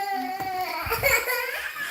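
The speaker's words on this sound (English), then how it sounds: "I know you guys don't want to hear kids crying." Children cry close by, giving a short, wavering, high-pitched wail that rises and falls in a sobbing rhythm.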